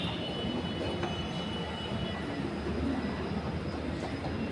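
A metro train pulls into an Akshardham-bound station with a steady, loud rumble and rising whine of motors and wheels, filling the platform without any voices.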